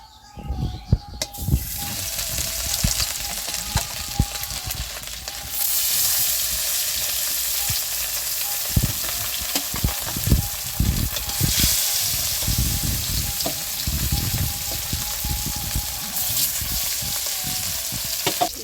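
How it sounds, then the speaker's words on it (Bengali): Pieces of rohu fish fry in hot oil with a steady, loud sizzle and crackle that runs throughout, along with occasional scraping and stirring bumps in the pan and no talking. "এবার আমি বাকি মাছগুলো ভেজে নেব।"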